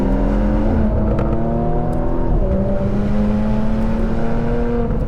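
A Porsche Macan GTS with sport exhaust accelerates, its engine note rising in steady revving pulls through the gears from inside or near the car, loud and continuous with no speech.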